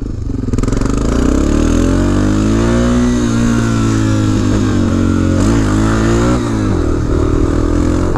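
A BMW GS650 motorcycle running with only one exhaust tip fitted gives a loud, close engine rumble that rises into revs and settles back, with a steady throaty drone throughout.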